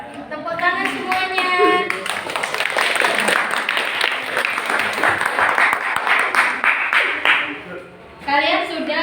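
A class of students claps hands together, a dense, lively burst of applause that starts with voices and runs steadily for several seconds before tapering, with talk mixed in at the start and end.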